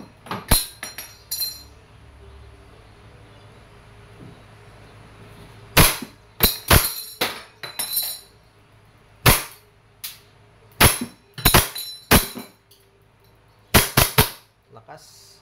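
EMG Pit Viper John Wick 4 airsoft pistol, TTI licensed, firing in sharp, loud, close cracks, singly and in quick clusters of two or three, separated by quiet gaps, with some talk nearby.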